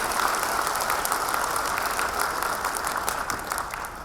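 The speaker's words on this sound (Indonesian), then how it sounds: "mari sebagai ungkapan apresiasi itu kita berikan tepuk tangan yang sekeras-kerasnya untuk para dosen dan tenaga pendidik" Audience applause at an Indonesian academic oration honoring lecturers and teaching staff: steady, dense clapping fills the whole stretch at an even level, tapering slightly toward the end, with no voices on top.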